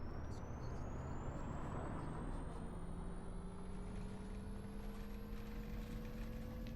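A city bus in The Bus game pulls out from behind parked cars on Berlin streets, a steady engine drone with a rising whine building in pitch as it accelerates, continuous and moderately loud.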